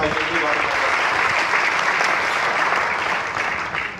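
An audience at a university sports director's speech breaks into sustained, even applause, a thick wash of clapping that holds steady throughout, with a voice briefly audible near the start.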